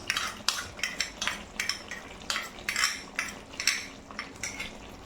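A spoon stirs a paste of ground poppy seed and melon seed with sugar in a pan of frying pointed gourd: rhythmic scraping strokes about twice a second, soft and close, with light sizzling beneath.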